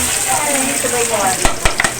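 Close, steady sizzling of garlic frying in a hot pan for snail adobo, with a few sharp clicks of a utensil near the end.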